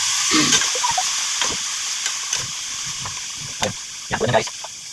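Sautéed winged beans are stirred in a pan over a soft hiss of steam, with intermittent scraping and clattering strokes close by and some quiet talk now and then.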